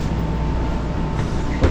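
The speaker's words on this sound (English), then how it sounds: "The train to Busan." Interior of a moving passenger train bound for Busan, South Korea, seen from car number 1: a steady low rumble and hum of the carriage rolling along, with a brief thump near the end.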